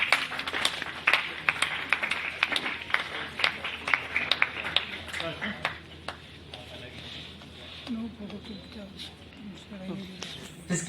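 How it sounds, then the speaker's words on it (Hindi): Audience at a literary book-launch gathering clapping for a senior writer: brisk scattered claps ring out strongly at first, then thin and soften into a quieter, sparser patter with some murmuring in the room. "बहुत वरिष्ठ रचनाकार नरेंद्र भूषण के लिए जोरदार तालियां"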